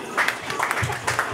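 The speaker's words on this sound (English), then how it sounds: "Give him an round of applause" Audience applause at a book launch event, a steady patter of clapping spread across the room at moderate volume, rising and falling slightly with brief swells, heard without speech on top.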